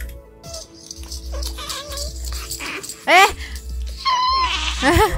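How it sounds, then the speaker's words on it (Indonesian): A cat meows several times, with rising and falling cries that grow louder toward the end, heard between bursts of people talking and a low background hum. "dia ngeong"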